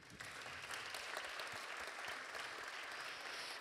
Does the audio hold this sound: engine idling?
no